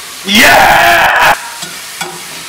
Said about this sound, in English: So you're just going to add it all in. It's going to sizzle.